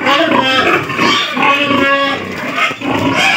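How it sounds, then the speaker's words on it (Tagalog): Large pigs on a native chicken farm in the Philippines grunt and squeal loudly and continuously, several animals close by with overlapping harsh snorting calls and no talk. "Yan lang mga baboy yung"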